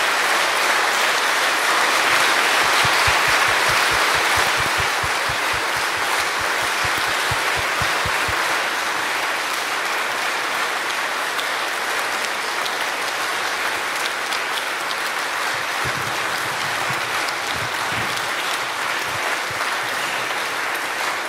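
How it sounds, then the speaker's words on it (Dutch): Sustained applause from a large crowd at a memorial ceremony for Rita Reys, loud and steady throughout, with rhythmic clapping briefly pulsing through near the start. "Geef applaus voor deze waanzinnige vrouw."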